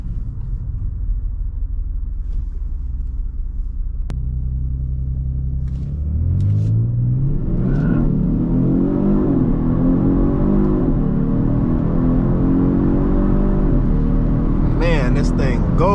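A 2023 Genesis G70 3.3T, a rear-wheel-drive twin-turbo V6, launches from a low steady rumble into a loud rising surge that builds and holds as the engine pulls hard, heard from inside the car.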